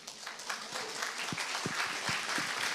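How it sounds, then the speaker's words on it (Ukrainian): Audience applause at a talk on dreams and business ideas, a steady wash of many hands clapping at moderate distance, fairly faint, with a few sharper individual claps standing out. "Поліна Павлова, ваші оплески."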